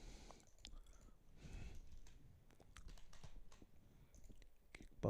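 Typing on a computer keyboard, with a steady patter of quiet close key clicks in quick irregular bursts over faint room noise.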